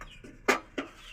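Chickens cluck in a few short, close calls, two sharper bursts standing out over a quiet background, with no talk.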